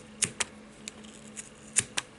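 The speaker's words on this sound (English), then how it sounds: "we're going to go through this groove right here with our scissors and start snipping" Small scissors snip yarn wound on a Clover pom pom maker, giving a series of sharp, close cuts in an uneven rhythm: about five or six crisp clicks with short quiet gaps between them.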